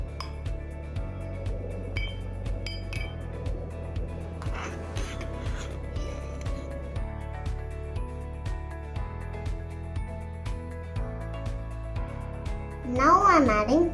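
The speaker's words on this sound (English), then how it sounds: "Now I am putting the kiwis in the glass." Kiwi pieces are dropped into a glass for a tricolour fruit pudding, giving light clinks and soft taps over a low steady hum, with a brighter rattle of glass near the end.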